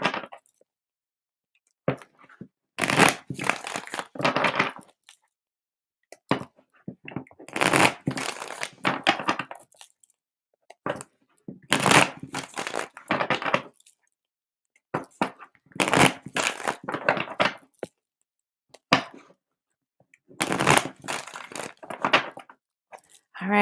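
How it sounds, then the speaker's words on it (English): Tarot cards are shuffled close up in about five separate bursts of riffling and slapping, each lasting a second or two, with quiet gaps between them. "Let me do some clearing shuffles and then we'll get started on your reading."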